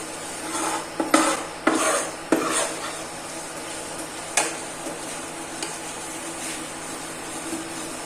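Flour for kadah prasad is stirred and roasted in a pan with a spatula, making several loud scraping strokes early on, then sporadic lighter scrapes over a soft sizzle.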